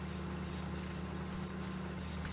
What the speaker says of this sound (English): Wow, we can really belt it in this tractor.